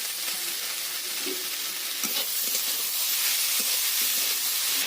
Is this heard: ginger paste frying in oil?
yes